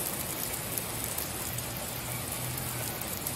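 Heavy rain pours steadily outside a house door, a dense continuous hiss of drops on surfaces with no talking, loud and close throughout.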